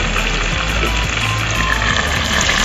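Medium-sized onions browning in hot oil in a karahi for chicken karahi cooked in a village, a loud, dense, unbroken sizzle close by, with no voices.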